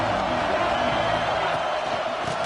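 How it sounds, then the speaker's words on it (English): A dense football stadium crowd at an Ole Miss versus Georgia game roars continuously, a broad, sustained wall of cheering with a commentator talking over it. "This crowd ready to make its presence known"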